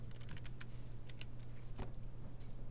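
A computer keyboard is typed on up close, with a quick, uneven run of clicking keystrokes over a steady low hum.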